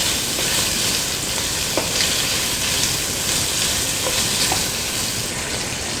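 Andouille sausage sizzles steadily in olive oil in a pan, a dense, even frying hiss with faint pops and crackles throughout, loud and close with no voices.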